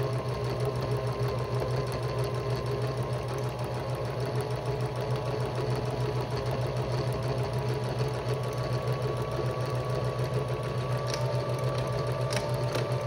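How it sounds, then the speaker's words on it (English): Sewing machine running steadily while stitching one straight seam along a zipper pouch, a continuous close whirring hum with rapid needle rhythm throughout, no talk. "we're just gonna sew one straight line"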